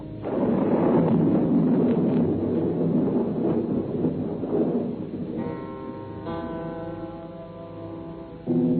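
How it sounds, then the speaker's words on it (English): Wind and storm sound effect for a radio drama, a loud continuous roaring rumble that swells and slowly eases, with a steady tonal hum emerging toward the end. "The wind came. The storm was beginning."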